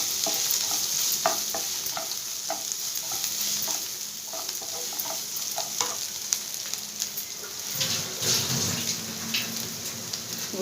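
Pieces of boiled raw banana fry in a pan, giving a steady close sizzle under repeated stirring taps and scrapes, with a louder, rushing burst near the end and no one speaking.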